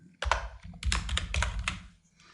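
Keys on a computer keyboard are tapped in a short, close burst of a few quick clicks, then a pause, then another cluster fading out, with no talking.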